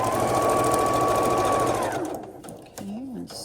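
A sewing machine runs a fast, steady whir as it stitches quilt strips for a log-cabin style quilt. The motor winds down about two-thirds through, leaving a few brief handling noises.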